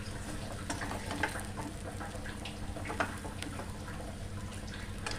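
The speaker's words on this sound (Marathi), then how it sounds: "आता हलक्या हाताने अगदी हळूहळू हे परतून घ्यायचं परतून घेत असताना गॅसची जी फ्लेम आहे ती एकदम मंद ठेवायची" Lati vadi being stir-fried gently in a pan over a low flame, a steady soft sizzle with faint scattered scrapes and crackles throughout, no voices.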